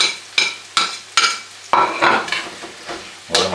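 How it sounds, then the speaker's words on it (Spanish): Fried noodles are stirred into a sofrito in a pan for a fideuá: about eight scraping strokes in an uneven rhythm, close and clear, with frying sizzle underneath. "Movemos todo bien, que se mezcle bien."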